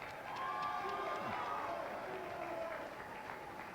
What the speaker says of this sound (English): major round of applause.